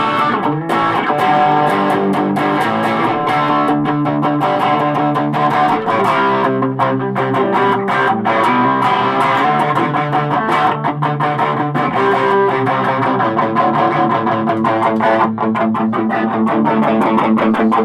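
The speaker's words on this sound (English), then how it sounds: "The reverb makes it kind of sound a wee bit strange when you're using the distortion." Electric guitar played through a Roland Micro Cube amp with distortion and reverb, a continuous loud stream of driven chords and notes with no talking.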